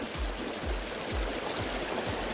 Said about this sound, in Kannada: ಅಲ್ಲಿ ಅಷ್ಟು ಚಿಕ್ಕದಾಗಿ ಬರ್ತಾ ಇದ್ದ ನೀರು ಇಷ್ಟು ಅಗಲವಾಗಿ ಹರಿತದೆ ಮುಂದೆ ಬಂದು